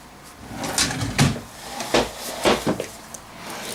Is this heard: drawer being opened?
yes